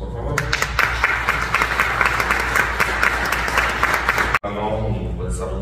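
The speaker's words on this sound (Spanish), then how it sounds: "Un fuerte aplauso, por favor" Warm audience applause at a quinceañera, dense clapping and cheering that runs loud and steady before cutting off abruptly near the end, after which softer room sound and faint music remain.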